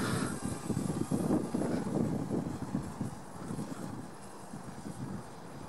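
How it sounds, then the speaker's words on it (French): A DJI Spark drone flies with a steady, fairly loud whirring hum that gradually eases and grows quieter as it moves away. "Le drone y va."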